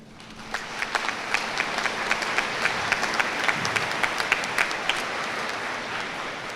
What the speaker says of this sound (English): So give yourself a round of applause for being here tonight.